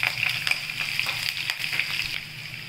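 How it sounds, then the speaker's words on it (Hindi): Broken red chilies frying in hot oil with whole spices such as cinnamon, a busy crackling sizzle with small pops and occasional stirring taps, close and steady. "रेड चिली को हम ऐसे तोड़ के ऐड कर लेंगे। इसको 1 मिनट तक ऐसे भुनने देंगे।"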